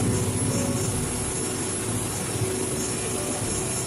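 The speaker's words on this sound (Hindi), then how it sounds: "ये टर्बो चार्जर है" A Jenbacher 320 gas engine's turbocharger runs in a power plant, giving a loud, steady roar with a high whine and no break.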